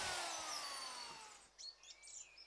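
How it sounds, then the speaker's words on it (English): A double-stage drill bit pre-drills and countersinks decking boards outdoors, giving a whining spin for about a second and a half before it stops and birdsong takes over. "uses a double-stage drill bit, which allows you to pre-drill and mill a bowl in a single operation"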